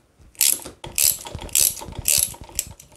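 A chain breaker tool is cranked to push a pin out of a Yamaha Tenere 700 motorcycle chain, giving four loud, close ratcheting bursts of bright clicks at a steady half-second rhythm with clanking mechanical knocks between.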